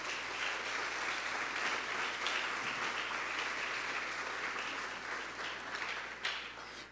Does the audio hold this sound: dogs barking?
no